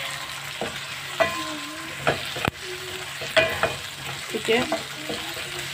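Chopped green chillies drop into chicken masala frying in a pan, giving a steady close sizzle broken by scraping stir strokes and clinks, with a brief spoken word.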